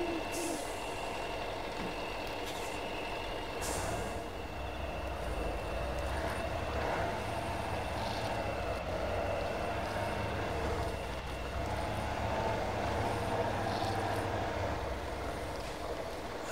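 A truck engine in the off-road game Spintires, a steady low rumbling drone that runs without a break, with a few short clanks and higher tones over it and a voice speaking over the top.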